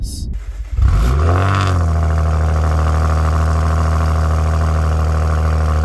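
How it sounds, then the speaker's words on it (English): A 2019 Maserati Ghibli V6 cold-starts in sport mode with a brief crank and roar, then settles into a loud, steady, rumbling exhaust idle close by. "the idle in this car on a cold start in sport mode sounds phenomenal"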